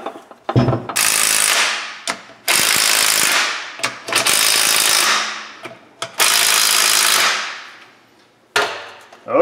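Bolts on a Chevrolet front differential being tightened, with loud, close bursts of rapid ratcheting that come in several long runs separated by short pauses, with no talk.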